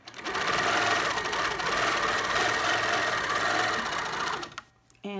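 A sewing machine runs steadily, stitching white thread into navy fabric, a loud continuous mechanical whir that stops abruptly near the end.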